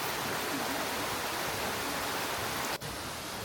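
Yongchu Falls, a three-tiered waterfall in a canyon formed from hardened volcanic ash, pours in a steady broadband rush of falling water, close and constant, with no voices.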